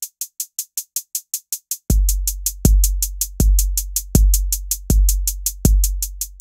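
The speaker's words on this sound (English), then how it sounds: "every four of these hi-hats, we hear now a kick drum" Electronic hi-hat ticks in a steady sixteenth-note stream, programmed in Ableton Live, joined partway through by a deep booming kick drum landing on every fourth hi-hat, all loud and alone with no voices.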